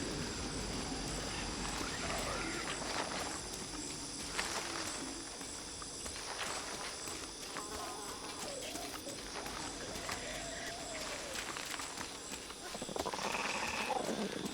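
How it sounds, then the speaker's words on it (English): Pigs in the video game Shadow of the Tomb Raider let out several strange, wavering, exaggerated squeals and grunts amid a busy game ambience. "that's pretty over the top sound effects for pigs or swine"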